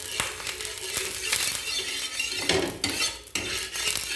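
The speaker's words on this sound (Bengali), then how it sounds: "ঘি দিয়ে খুন্তির সাহায্যে চারদিকে মেলে দেব।" A metal spatula spreads ghee across a hot tawa, making close scraping and clinking strokes over a soft steady sizzle, alone and moderately loud.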